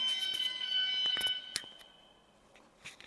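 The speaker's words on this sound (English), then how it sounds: "there's an alarm that went off" A fire alarm in a hotel sounds as a shrill, steady electronic tone that cuts out partway, followed by a few faint clicks and knocks in a quiet room.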